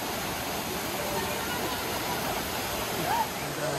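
A waterfall on Mallorca, heard as a steady, loud broadband rush of falling water that fills the whole clip without a break, with a brief faint higher sound near the end.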